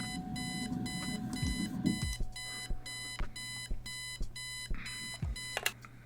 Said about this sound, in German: Eileen's obnoxious alarm clock. The noise makes me want to stab myself with something dull.